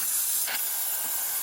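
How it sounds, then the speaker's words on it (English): A Breville Barista Express BES870XL espresso machine's steam wand hisses loudly and continuously up close, a strong, steady jet of steam with a few small surges and no talking over it. "Nice steam coming out from this one."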